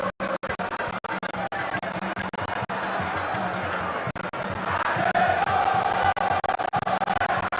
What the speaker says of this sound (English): the fans will keep on cheering both sides on